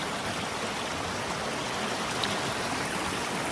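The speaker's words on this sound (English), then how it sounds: "the water comes through the limestone and comes all the way down" Water trickling down through limestone at a former waterfall site, a steady close broadband wash of flowing water that runs unbroken with no voices.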